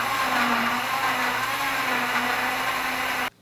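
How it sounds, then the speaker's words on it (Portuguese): A blender whirs steadily as it mixes vegetable-and-fruit juice, a loud, even motor drone with a faint hum running under it, holding the whole time and then cutting off abruptly near the end. "Em seguida, bata no liquidificador para a devida mistura."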